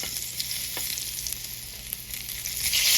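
Duck breast sizzles steadily in a pan as its fat renders, a close, loud, continuous hiss and crackle with occasional pops and no talking.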